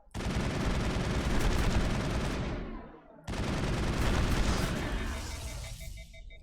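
Sustained automatic weapon fire in the sci-fi shooter game Mass Effect, two long loud continuous bursts separated by a brief gap, each tailing off as the weapon stops, with no voices over it.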